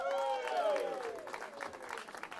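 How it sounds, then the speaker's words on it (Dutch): An audience applauds volunteers at an afternoon gathering by a log cabin, steady clapping over about two and a half seconds with a loud voice carrying through the first second. "Nog even een applaus voor alle vrijwilligers van deze middag."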